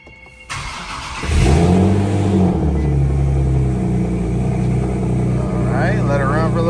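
A car engine cranks and starts, then settles into a loud, steady idle with a deep rumble, running continuously after the UV oil dye has been added to trace an oil leak.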